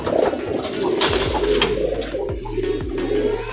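A breeding bird, a dove or pigeon type, coos in soft repeated low calls, close by, with steady background noise and no talk.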